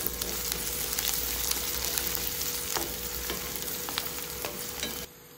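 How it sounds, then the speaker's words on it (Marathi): Green chillies and onion fry in oil for rava upma, a close, continuous crackling sizzle with scattered stirring scrapes that stops abruptly just before the end. "इथे आहे ते 1 ते 2 हिरवी मिरची आहे, ती पण तेलावर परतून घ्यायची।"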